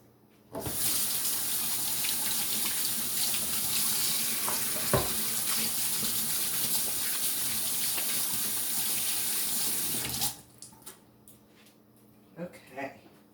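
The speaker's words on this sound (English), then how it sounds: "Wash my hands." Tap water runs steadily for about ten seconds during handwashing in a home kitchen, a loud continuous splashing hiss that stops abruptly, followed by a few faint clinks and small knocks.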